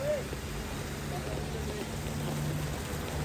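A steady wash of heavy monsoon rain in Mumbai hisses continuously, with a low hum running underneath and no other sounds standing out.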